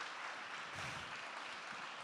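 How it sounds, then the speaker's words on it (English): An audience at a stand-up comedy show claps for cancer survivors in the room, a faint, distant and steady patter of many hands. "Yeah, clap for them, please."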